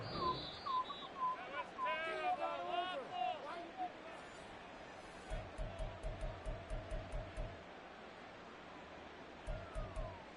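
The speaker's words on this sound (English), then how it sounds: "Now whistles here before the snap" Short whistle bursts sound just before the snap in a Madden 24 NFL game featuring the Steelers, mixed with crowd noise and stadium ambience, while a commentator talks over the action.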